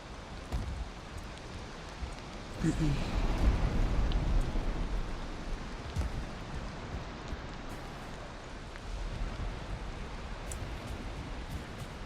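Rain falls in the video game Parallel as a steady, fairly loud hiss, swelling with a low rumble for a couple of seconds before settling back. No one speaks.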